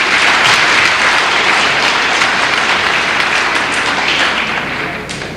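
Audience at the 1995 Sir Syed Day mushaira poetry gathering in the USA breaks into loud, sustained applause, dense clapping that fills the room and slowly tapers.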